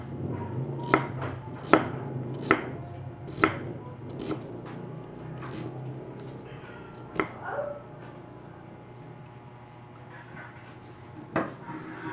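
Ginger being chopped with a knife on a cutting board, a series of sharp, close knocks at uneven intervals, thinning out toward the end with a few scattered taps over a low background hum.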